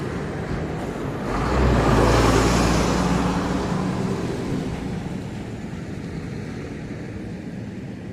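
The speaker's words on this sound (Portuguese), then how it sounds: "agora vai passar um caminhão barulhento aqui. Deixa esse caminhão passar." A noisy truck passes on a road, a broad rumbling roar that swells to a peak around two seconds and then slowly fades as it moves away, heard alone without speech.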